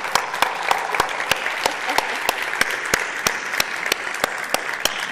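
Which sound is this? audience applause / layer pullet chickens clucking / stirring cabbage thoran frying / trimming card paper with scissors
audience applause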